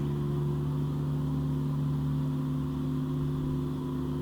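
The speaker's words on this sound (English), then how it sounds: "You notice the mower's not up to high revs." Gianni Ferrari ride-on mower engine running at low revs in eco mode, a steady, even mid-pitched drone with a constant hum and no change in speed, heard alone without talk.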